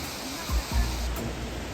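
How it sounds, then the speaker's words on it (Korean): Jaein Falls in Yeoncheon, Gyeonggi-do, a waterfall seen from a distance after heavy rain, gives a steady broadband hiss of falling water, with brief low rumbles, likely wind buffeting the microphone. "자, 여기 제인 폭포가 있습니다"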